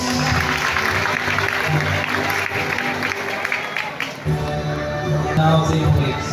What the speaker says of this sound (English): let us give our completers a round of applause